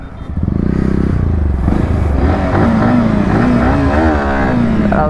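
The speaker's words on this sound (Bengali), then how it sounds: "হুইলি হচ্ছে দেখো আমার" A Bajaj Pulsar N160 motorcycle's engine revs hard and holds at high rpm during a wheelie, a loud, close, continuous roar whose pitch climbs and wavers, with faint clatter underneath.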